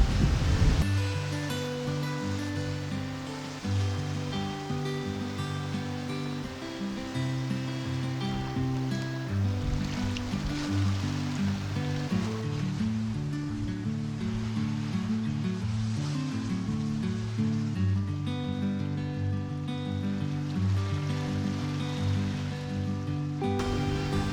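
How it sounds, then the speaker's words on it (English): Choppy wind-driven sea, not yet built into swell, washing against a sailboat in a loud continuous rush, with a steady low tonal drone running beneath the water throughout. "it's not really swell, it's just chop right now because the wind hasn't had time to let it build"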